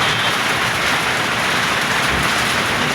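Torrential rain from a thunderstorm hammers down steadily, a loud, unbroken wash of noise close by with a faint low rumble beneath and no talking.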